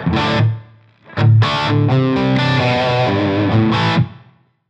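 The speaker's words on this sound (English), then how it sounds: "actually add some reverb here and see what the reverbs can do" Distorted electric guitar chords through a Fractal FM3 with a medium-room reverb ring out with a washy reverb tail, a short phrase, a pause, then a longer sustained passage that fades away.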